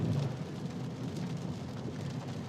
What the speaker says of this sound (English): just a lot of rain, as you mentioned, causing those issues